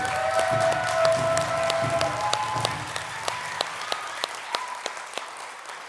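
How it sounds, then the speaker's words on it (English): Audience applause for graduates at a Cankdeska Cikana Community College ceremony, a steady crowd clapping that thins out toward the end into a few scattered individual claps, with faint voices early on. "Let's give all the graduates one more round of applause"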